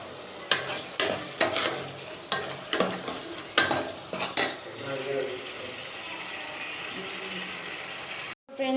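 Brinjal (eggplant) frying in a pan for kara kuzhambu: sharp scraping stirs and clatters at first, then a quieter continuous sizzle that settles in before a brief dropout.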